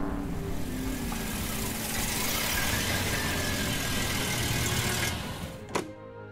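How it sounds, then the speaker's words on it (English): A supercharged Volkswagen Beetle engine runs with a loud, steady mechanical drone and hiss close by, then cuts away near the end with a brief knock before falling quiet. "fires up his VW Bug with its supercharged engine"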